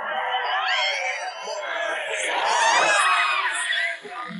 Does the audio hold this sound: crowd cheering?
yes